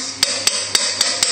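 Five sharp metallic taps in quick, even succession as a potato masher is knocked against the rim of a pot, close and loud.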